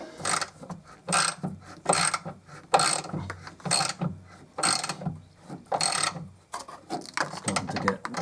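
A ratchet wrench clicks in quick bursts while turning a nut on the rear roll bar of a 2001 Mercedes SLK, the strokes repeating in a steady rhythm up close with no one speaking.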